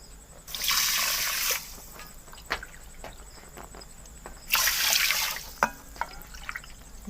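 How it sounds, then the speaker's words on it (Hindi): Water is poured from a vessel into a pan holding sugar to make syrup for rasgulla, two steady splashing pours of about a second each with small clinks in between, close and without talk. "शीरा तैयार करने के लिए पैन के अंदर हम 1 कप चीनी डालेंगे और इसके अंदर डाल देते हैं 4 कप पानी।"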